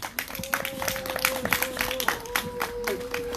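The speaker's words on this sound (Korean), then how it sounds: "모두 김상환님께 큰 박수 부탁드리겠습니다" An audience at an outdoor candlelight rally claps in a steady patter of many hands, moderately close, while a tonal hum or music line runs faintly underneath.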